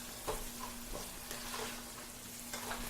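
Biryani ingredients frying in a pan with chicken for a biryani, a steady soft sizzle broken by a few brief stirring scrapes, fairly quiet and close, with no talking.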